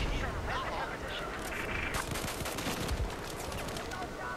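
Rapid gunfire in the Xbox 360 version of the shooter Battlefield 4, a dense stream of crackling shots and bursts with sharp transients throughout, loud and continuous, mixed with other battle noise.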